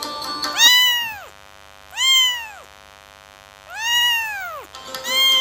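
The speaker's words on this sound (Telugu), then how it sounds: "దాంట్లోనే చిన్న చిన్న పిల్లి పిల్లల్ని చూశాను" Small kittens give several drawn-out, high meows, about four separate cries with short pauses between, heard close and clear over a steady electrical hum.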